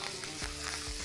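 Curry leaves and asafoetida sizzle and crackle in hot oil for tempering, a steady close frying hiss with a couple of soft stirring knocks.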